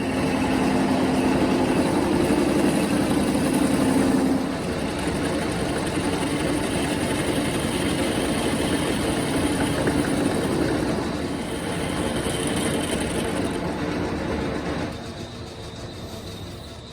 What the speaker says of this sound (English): It is time to do a little bit of cleaning up on the lathe here.